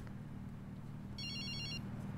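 Phone ringing in the video game Sleeping Dogs, a brief electronic ringtone burst that is faint behind a steady low engine-like background hum.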